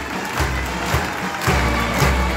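A large outdoor crowd at the Royal Edinburgh Military Tattoo applauds and cheers a Nigerian military display, a continuous wash of clapping with low rumbling swells.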